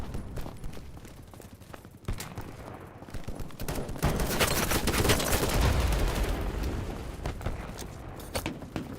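Pistol gunfire crackles in a video game battle as a rapid series of sharp, close shots over dense, rumbling combat noise that swells through the middle.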